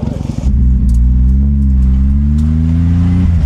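A Subaru Libero van engine labouring as it drives through a forest in rear-wheel drive, a loud close low drone that holds steady after a rough start.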